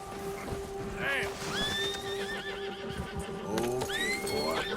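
A horse in Red Dead Redemption 2 gives several loud, close whinnies with rising and falling squeals, over hoof clip-clop and game background sound.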